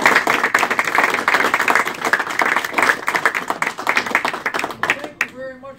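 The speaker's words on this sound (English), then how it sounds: "Please give Ken a big round of applause" Audience at an amateur radio ARRL service award presentation applauding for a plaque recipient, loud sustained clapping from a room of people that tapers off, with a voice starting to speak at the very end.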